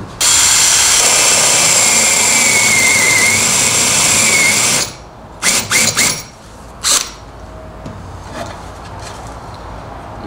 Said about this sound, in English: So now I'll just drill the other one the same.